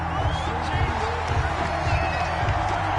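Large NFL stadium crowd at a Jets versus Chiefs game roars and boos in disapproval after a penalty flag on third down, a continuous loud swell of voices with rhythmic stomping pulses.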